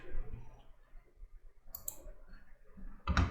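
A computer mouse clicks to finish a software installation, with a sharp click near the end over quiet room noise and a faint earlier tick.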